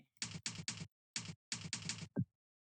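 Keystrokes on a computer keyboard, close and quiet, in short bursts of rapid clicks separated by brief pauses, with a final louder tap.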